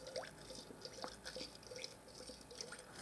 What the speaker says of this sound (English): It's quite low and it's bubbling.